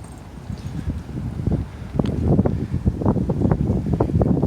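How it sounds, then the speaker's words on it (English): Strong wind buffets the microphone outdoors, a loud continuous roar that surges and gusts harder in the second half, with no voices. "wind's getting bad"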